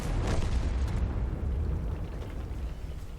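Tank main gun firing in a World of Tanks-style battle, a dense rumbling boom with a sharper burst early on, sustained low roar throughout at moderate loudness.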